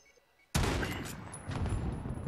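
Video game gunfight gunfire: a loud volley of shots bursts in abruptly after a brief quiet and continues as sustained rapid fire.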